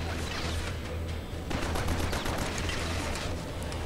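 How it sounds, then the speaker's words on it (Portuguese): Gunfire in the video game Killzone Mercenary: dense, rapid bursts of automatic shots over a constant low rumble, growing heavier partway through. "Como é ruim tomar tiro à toa"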